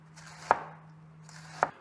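Two crisp knife strokes slice through cabbage on a board, cut at an angle into thin threads for salad, each chop a sharp close thud about a second apart with a faint steady hum underneath.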